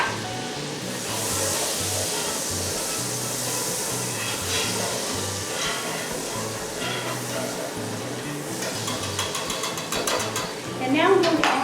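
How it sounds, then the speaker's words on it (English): Butter melts into hot pan drippings for a sauce, a dense, steady sizzle that swells into louder crackling and spitting near the end. "I'm going to add some butter"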